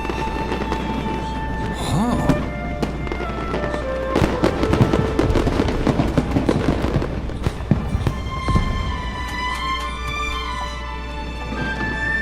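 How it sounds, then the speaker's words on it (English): A fireworks show with scattered bangs and crackles of varying loudness, heard at a moderate distance over a steady low hum and background music tones. "Fireworks show?"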